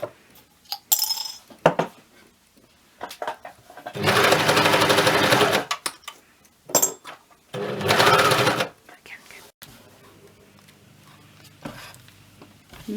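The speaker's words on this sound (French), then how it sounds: "il nous suffit de passer tout ça à la surjeteuse, et ce pour les 2 pièces poche devant" An overlocker serger stitches front pants pocket pieces together, its motor whirring loudly in two steady bursts of about two and one and a second, with soft clinks and a quiet voice in the pauses.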